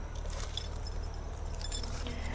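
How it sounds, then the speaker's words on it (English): A bunch of two keys on a chain jangling near the microphone at a camper van, a continuous metallic clinking over a low steady background rumble. "So there are two keys on this chain."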